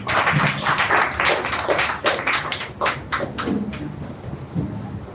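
An audience claps for the next speaker at a speech competition on the status of women: dense, steady hand clapping from a group, continuous for several seconds and fading slightly at the end.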